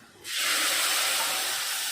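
Hot oil tempered with mustard seeds, cumin and garlic hits cooked mixed toor, moong and masoor dal with a sudden loud hiss, then a steady, close, sustained sizzle with no talking.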